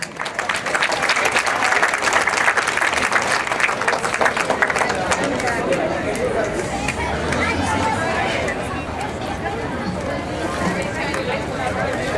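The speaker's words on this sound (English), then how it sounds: "A round of applause for her, please." Round of applause for a premier's representative at a South Australian official event, full clapping at first that gradually thins into crowd chatter and murmuring voices.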